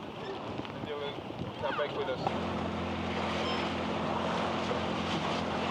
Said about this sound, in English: So there's a lot of boats here doing the tour.